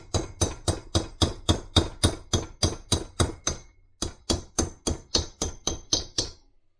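A hammer strikes the outer metal rim of a rear brake seal on a Ford F-350, landing about twenty sharp metallic taps in an even rhythm at close range, with one short pause midway.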